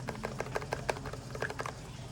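Enter key on a Machenike K500w wireless mechanical keyboard with brown switches, tapped several times in a loose quick series of soft, close clicks, fairly quiet.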